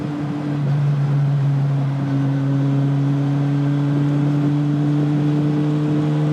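Honda S800 sports car engine held at full throttle, a loud, steady, high-pitched tone building and sustained throughout with strong induction roar and no talking.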